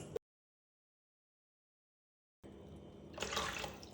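Warm water pours into a wide bowl for focaccia dough, a steady splashing stream that starts after a long silence and swells briefly near the end.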